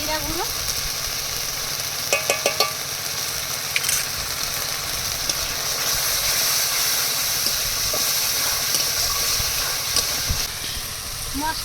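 Spices with yogurt kosha-fried in a pan for a bhetki fish curry give a steady, close sizzle with bursts of stirring clatter early on. Faint voices murmur now and then.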